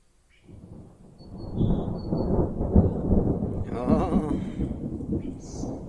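Thunder from a summer storm rolls in, a low rumble building and lingering for several seconds at moderate distance, with a faint brief bird-like chirp above.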